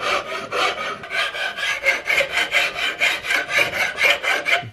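Wooden stock of a CVA Hawken muzzleloading rifle being shaped with a rasp or file, steady back-and-forth rubbing strokes about twice a second, close and fairly loud, no talk.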